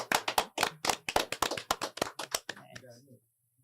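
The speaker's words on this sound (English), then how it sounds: "Hey, clap it up for that." A small group clapping for a guest during a casual podcast recording, roughly a dozen sharp close claps in a quick uneven run that taper off, then trail into a brief murmur of talk before falling silent.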